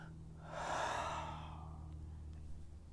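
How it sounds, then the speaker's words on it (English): A single deep breath is drawn in through the mouth, a soft rising airy inhale that swells and fades over about a second, close and quiet against a faint background hum. "hold your breath for as long as you can and take a deep breath in."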